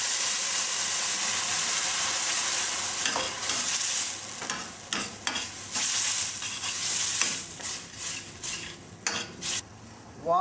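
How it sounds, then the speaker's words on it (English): Biryani masala sizzling in a few tablespoons of hot oil, a loud continuous fry with bursts of stirring scrapes and spoon-on-pan knocks throughout. "While the biryani masala is getting cooked"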